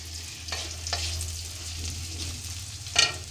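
Sliced onions frying lightly in a pan for vegetable pulao, a soft steady sizzle with a few sharp clicks and scrapes of a spoon, the loudest near the end.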